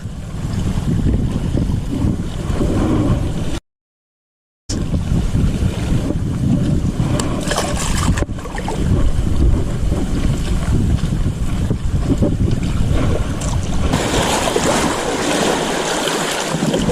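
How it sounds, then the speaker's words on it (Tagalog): A fishing boat pounds through rough water near Talim Island, engine drone and splashing waves mixed with heavy wind buffeting the microphone, briefly cutting out partway through. "Tsaga tayo sa malakas na alon."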